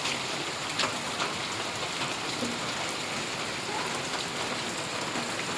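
Torrential rain falling on Gordka village in Gadhada, Botad district, water flooding the road and yards: a steady, close, unbroken roar of pouring rain with scattered sharper drop hits and no talk.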